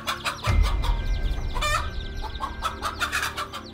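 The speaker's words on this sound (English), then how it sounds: "the mother hen immediately rushed up to peck at the snake." A mother hen clucks repeatedly in short, choppy bursts close by while attacking a snake, with a heavy thump early on and a sharp squawk midway.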